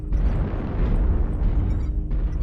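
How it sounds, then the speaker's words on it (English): Artillery box strike explosions in MechWarrior Online, a dense, continuous low rumble of blasts with a couple of louder bursts, heavy and close, and no voices. "Artillery box strike 4"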